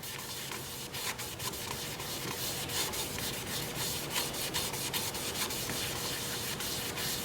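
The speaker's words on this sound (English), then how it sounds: "this stuff sands up really nicely" Steady sanding on an end-grain mesquite wood bowl: a continuous rough scratching with repeated back-and-forth strokes, close but fairly quiet.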